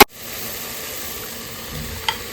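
Coriander and mint leaves being stirred into biryani in a pressure cooker, a soft, steady sizzle with a faint clink of the spoon near the end.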